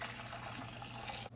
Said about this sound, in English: 2 1/4 cups of water going in.